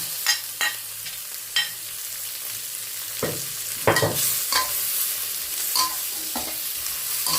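Shrimp are stir-fried with tom yum paste for tom yum fried rice, giving a soft sizzle under scattered spatula scrapes and knocks against the pan.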